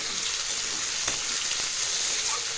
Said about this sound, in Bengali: মশলাটা কড়াই আছে, আর তেলের টমেটো আর পেঁয়াজ দেওয়া হলো।